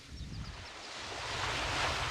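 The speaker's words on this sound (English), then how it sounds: "That's the ocean again." Ocean waves washing in, a broad rushing surge that builds steadily louder, with a low rumble underneath and faint bird-like chirps early on.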